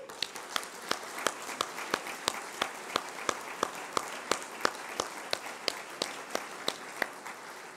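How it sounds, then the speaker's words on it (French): A crowd at an open-day gathering claps in rhythmic unison, sharp evenly spaced beats about three per second over a softer bed of scattered clapping, with no voices heard. "On peut aussi les applaudir."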